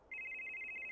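A phone rings in a horror video game: a bright electronic trill, fairly quiet and alone, beginning abruptly and continuing steadily to the end.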